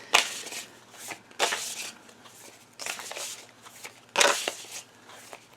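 Tarot cards are shuffled in four quick riffling bursts, each a crisp flutter, close and fairly loud, with quiet pauses between.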